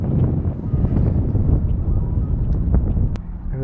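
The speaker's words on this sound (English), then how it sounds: "Ooh, that wind is chilly though when it blows." Chilly wind buffets the microphone outdoors on a fishing trip in cold weather around 43 to 45 degrees. The roar is loud, close and continuous, with low rumbling gusts and no voices.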